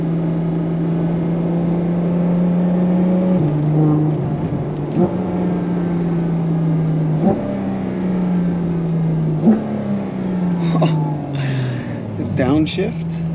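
A Ferrari F12 TDF engine drones steadily inside the cabin, dropping pitch and blipping up during several downshifts, with brief bursts of talk near the end.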